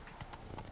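Roach the horse trotting in Witcher 3: soft, evenly spaced hoof clip-clops, faint and brief, over a quiet game background.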